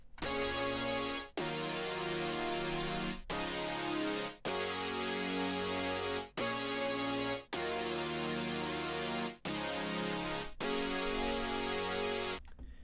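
Serum saw-wave synth plays a sequence of sustained, bright, buzzy chords from a piano roll, each block separated by short gaps, loud and alone with no talk.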